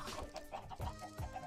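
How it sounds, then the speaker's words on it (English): Minecraft chickens cluck in a few quick, soft bursts, faint and close together over a second and a half, with no talking. "Chickens. Chicken. Chicken."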